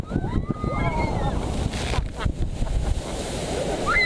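Water crashes and rushes as the Poseidon water coaster at Europa Park splashes down, a loud turbulent roar with wind buffeting the microphone and faint excited voices mixed in.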